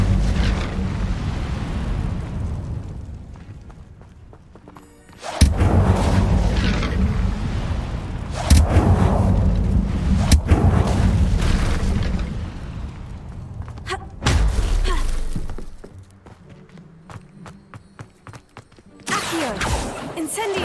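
The Incendio fire spell from the video game Hogwarts Legacy produces loud booming bursts and whooshing blasts. The blasts repeat several times and stand mostly alone, with little else around them.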